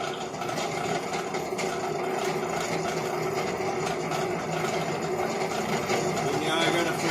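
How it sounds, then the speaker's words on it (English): Drill bit cutting holes in a workpiece clamped in a vise, a steady grinding whir held under firm pressure and continuing without a break. "This bit isn't very dull, it's actually pretty sharp. But if you keep enough pressure on it, you keep them cutting"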